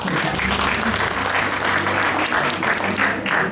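Loud, sustained audience applause at a Saraswati Puja 2026 stage program, steady dense clapping from a large crowd filling the whole moment without pause.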